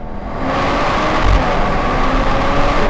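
A Mercedes-AMG CLE 53 convertible pulls hard in second gear through its paddle-shifted 9-speed, a steady loud engine drone building slightly over a few seconds.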